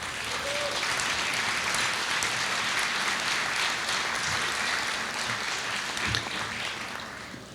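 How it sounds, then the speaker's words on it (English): Audience applause at an awards ceremony, steady dense clapping from a large crowd that holds through the clip and tapers slightly at the end. "I'd like you to give them an applause."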